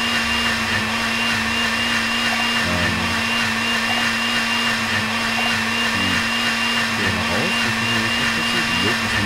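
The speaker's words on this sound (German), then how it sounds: "Tackleberry Finn darf nicht in den Mixer." A blender whirs steadily and loudly in the video game Deponia Doomsday, a continuous motor drone that holds an even level, with faint voices underneath.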